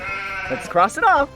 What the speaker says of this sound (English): Yeah, it's a sheep.